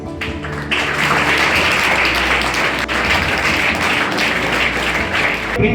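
An audience applauds at a school SSC graduation ceremony, with dense, continuous clapping from a large crowd filling the hall for about five seconds.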